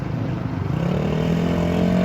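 Motard motorcycle with a very sharp engine and long-travel suspension at a motogymkhana competition, its engine droning and revving steadily and loudly nearby throughout.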